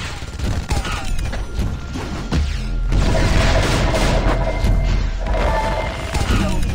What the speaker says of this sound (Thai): ป้อมมันยิงอาดานไปหนึ่งทีแล้วหรือเปล่าครับ